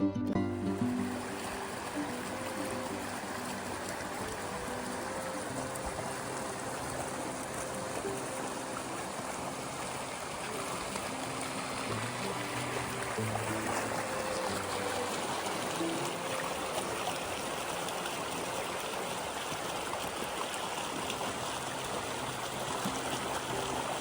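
A river flowing through a mountain public land area makes a steady, continuous rushing of water with no breaks, moderately loud and unaccompanied by voices.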